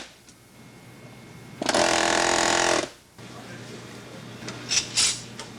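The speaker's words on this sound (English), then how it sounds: "I'll show the other way of doing it with the air hammer" An air hammer works on a VW Thing top installation, sounding as one loud sustained burst of about a second, then quieter shop noise with a couple of short knocks.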